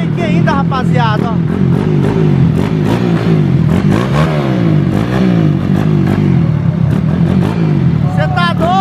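A motorcycle with a 70 mm, 220cc engine kick-started by hand revs loudly and continuously, its engine tone rising and falling in steady surges with a clattering edge, while people talk over it.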